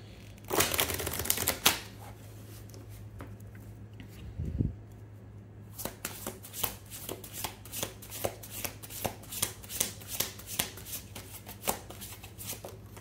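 Self-care oracle cards are handled and shuffled, first in a brief loud riffle, then in a long run of rapid, crisp flicks and snaps, close and with no voices.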